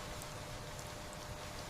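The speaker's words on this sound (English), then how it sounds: "And the rain continues" Steady rain falls at night, a soft continuous hiss of drops on surfaces, even and unbroken, with no voices.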